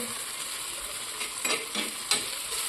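Spoon stirring spices into spicy egg bhurji in a hot pan, a soft scraping broken by a few brief louder strokes over a steady quiet sizzle, no voices.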